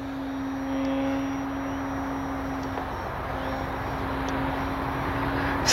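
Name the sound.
radio-controlled model airplane flying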